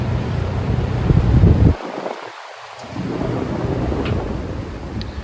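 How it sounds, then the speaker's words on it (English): Thunderstorm at a barn on a hot, humid day: heavy rain hiss with a deep rumble of thunder that cuts off abruptly, then steady rain continues. "it's storming here today"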